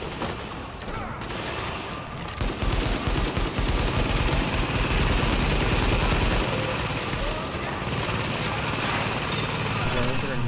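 An automated turret in the video game The Division fires sustained rapid bursts of gunfire, loud and dense from about two seconds on, over a busy combat backdrop with voices faintly mixed in.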